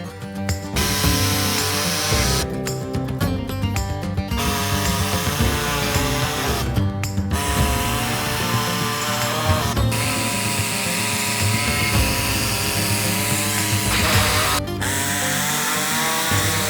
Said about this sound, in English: gonna cut out these little vertical pieces all the way along the bottom of the grill